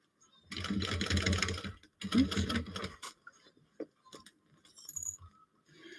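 A home sewing machine stitching fabric in two fast, loud bursts of rapid whirring, separated by a short pause, followed by quieter clinks and small handling noises.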